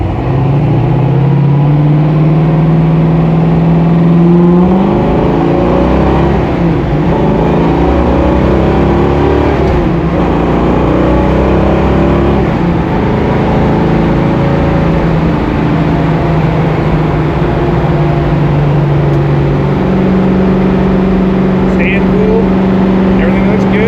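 A 1967 Ford Fairlane with cooling upgrades cruises loud and steady on a highway, its engine and road drone continuous throughout, with shifting tones as it accelerates and a voice talking over it at times.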